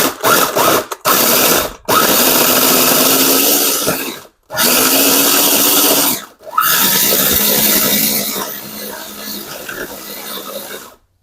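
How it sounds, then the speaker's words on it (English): Food processor pulsing crab and mushroom stuffing in several loud bursts of whirring chop, separated by short silences, with a softer continuous run near the end, close to the listener. "pulse it so it gets a running start here, because I do have chunks"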